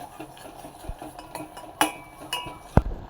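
A spoon stirs ghee into a thick kalakand sweet mixture of milk and sugar in a pan, giving soft scraping with several sharper clinks against the pan's side, close by and with no talk.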